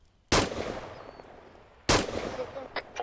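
Two loud, sharp gunshots in the Arma video game, about a second and a half apart, each ringing out with a short echoing tail, followed by a few fainter clicks and shots.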